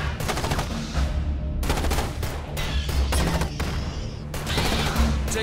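Troopers in the sci-fi strategy game Starship Troopers: Terran Command fire their guns in steady bursts of rapid automatic fire that continue through the whole stretch with brief gaps, fairly quiet in the mix.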